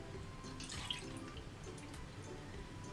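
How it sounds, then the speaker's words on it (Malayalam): Half a litre of milk is poured into a pan while making milk peda, giving a soft, steady liquid splash and trickle that runs close by and fairly quietly through the whole stretch. "അപ്പോൾ 1/2 ലിറ്റർ പാല് നമ്മൾ ഇതിലോട്ട് ഒഴിച്ചു കൊടുത്തിട്ടുണ്ട്"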